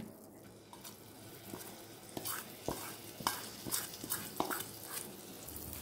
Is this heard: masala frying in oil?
yes